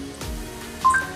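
A robot nursing assistant places a call, producing a couple of short telephone dialing beeps near the end, clean and close against a quiet room.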